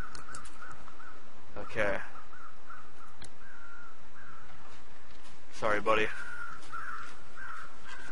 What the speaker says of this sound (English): there's birds circling me